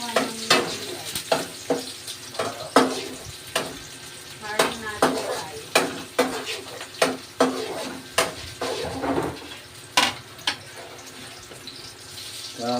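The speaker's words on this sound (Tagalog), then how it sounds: "Susunod ko po yung bawang ay yung sibuyas." Garlic and onion sauté in a hot pan as a spatula stirs in a regular rhythm, each stroke a sharp scrape over a constant close sizzle, with no voices.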